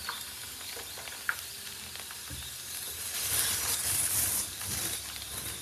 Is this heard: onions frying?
yes